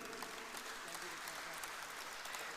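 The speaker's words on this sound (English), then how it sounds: "Your applause can continue." Audience applause at a rugby sponsors' felicitation ceremony for St. Peter's College, a soft, even, continuous clatter of many hands heard from some distance, with faint voices mixed in.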